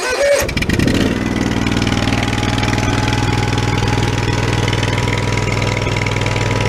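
A Hustler Super Z zero-turn mower engine with a burned-out muffler starts up and settles into a steady, loud, close idle with a throbbing low rumble that runs unchanged to the end.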